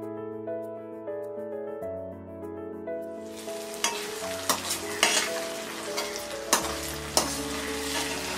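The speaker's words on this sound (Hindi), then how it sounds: "पैन को हम ढक देंगे ऑनियंस सॉफ्ट होने तक और टमाटर सॉफ्ट होने तक इसे फ्राई करेंगे।" Onions and tomatoes fry in a pan for Mumbai-style tawa pulao. Soft background music plays alone at first, then a loud, steady sizzle takes over with repeated sharp clicks and scrapes from stirring, while the music continues underneath.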